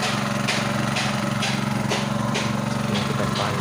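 A diesel engine driving a well pump for a manual-drilled workshop well is being started, running steadily with a loud, rhythmic low chugging and regular periodic bursts throughout.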